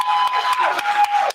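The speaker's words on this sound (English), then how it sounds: "if we could just do one more round of applause for Jessica." Audience applause with some cheering at a Busboys and Poets book event, a dense crowd sound running steadily throughout, close and fairly loud, with a few louder bursts.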